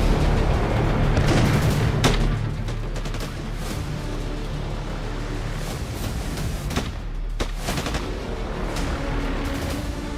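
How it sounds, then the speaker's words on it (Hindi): Rapid pistol shots fired in a burst by a man holding a loaded handgun, booming and repeated in quick succession with sharp transients over a steady rumbling background, no speech. "हाथ में लोडेड पिस्टल और दनादन गोलियां चला रहा असद अहमद"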